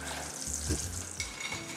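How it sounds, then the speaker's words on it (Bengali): French fries and pakoras frying together in oil give a steady, close sizzle, with a few soft clinks and stirring sounds. "পাকোড়ার সাথে ভেজে নিলাম কিছু ফ্রেঞ্চ ফ্রাইও।"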